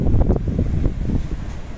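Strong wind blowing outdoors during a windstorm, roaring and buffeting the microphone with a steady low rumble and gusty surges for about two seconds, no voices.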